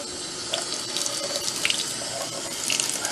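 Water runs steadily from a kitchen sink tap, a continuous close splashing stream with small drips and clinks, no voices.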